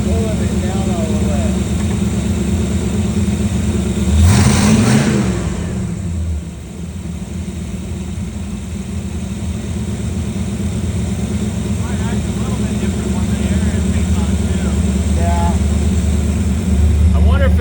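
A Dodge Dart engine with a boost problem and a weak throttle return spring idles loudly nearby, then swells into a single rev before settling, with people talking over the running engine.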